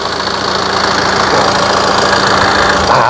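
A Tata Aria 2.2 turbo diesel engine in good condition runs steadily up close, producing a loud, continuous clattering diesel drone with no talk.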